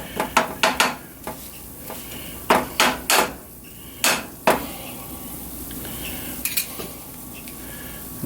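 A spoon scraping and clanking against a skillet while sausage and flour are stirred over a sizzling frying hiss, with irregular metallic knocks that are close and loud early and thin out later.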